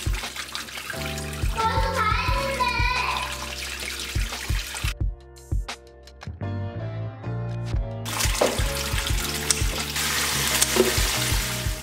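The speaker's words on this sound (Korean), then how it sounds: "쌈채소는 3번 정도 깨끗이 씻어줍니다" Leafy salad greens such as lettuce, kale, romaine, mustard leaves, red chard and perilla leaves are washed in water, with close sloshing, splashing and repeated handling knocks, a brief quieter dripping pause midway, then more rinsing.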